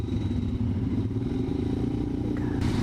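An off-road motorcycle engine runs in a steady low rumble close by, with a slight rise near the end, on an off-roading outing.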